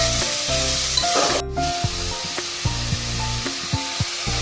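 Cabbage with green chilli and tomato fries in oil, a dense continuous sizzle up close, broken by a few light clicks of stirring.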